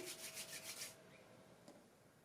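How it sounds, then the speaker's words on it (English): Hands rubbed together in a quiet room, a soft rhythmic swishing for about a second that then fades to near silence. "Now start rubbing your hands together like that."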